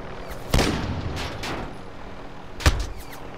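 Gunfire in Call of Duty: Modern Warfare comes as two sharp, loud shots about two seconds apart, with fainter reports between them over a steady game background.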